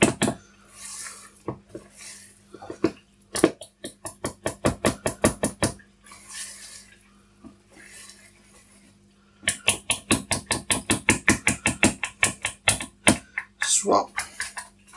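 Blueberry muffin batter being folded and mixed in a bowl, heard as bursts of quick, rhythmic clacking and scraping strokes of a utensil against the bowl, separated by short pauses.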